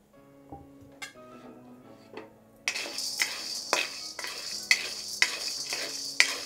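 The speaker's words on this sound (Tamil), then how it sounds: "இப்போ நம்ம மொச்சைய வறுத்துக்கலாம்" Field beans dry roasted in a pan, heard first as quiet clinks and then as loud, steady rattling and scraping of the beans being stirred against the metal, with rhythmic knocks of the spoon.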